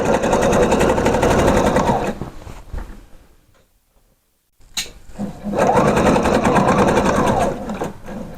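A sewing machine stitches a skirt seam in two loud, rapid, continuous runs separated by a second or two of near silence, with a small click as it starts again.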